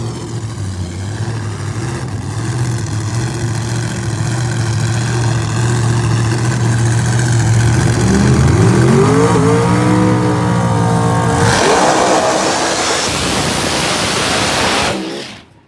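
A turbocharged ProMod drag racing car, Smokey's Garage entry, at Empire Dragway: a loud idling engine drone rises into a revving, accelerating sweep, then a broadband roar before cutting off near the end.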